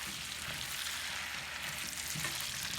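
Food frying in butter in a pan, a steady close sizzle with soft stirring scrapes running continuously throughout, no voices.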